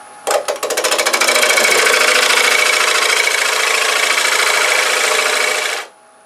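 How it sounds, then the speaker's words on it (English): A wood lathe runs while a deep fluted gouge cuts into a jam chuck, giving a loud, continuous buzzing chatter that starts abruptly, holds for about five seconds, then stops. "I'm just going to use a deep fluted gouge"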